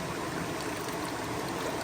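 Water drains steadily from a gold pan while panning for garnets in Connecticut, a continuous close trickling wash that runs unchanged with no voices.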